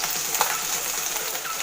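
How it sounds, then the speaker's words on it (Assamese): Onions sizzling in hot oil for palak paneer, a steady close crackling hiss with small bubbling pops and no talk. "এইখিনি তেলতে এতিয়া পিঁয়াজ দিব লাগিব। পিঁয়াজ দি দিছোঁ"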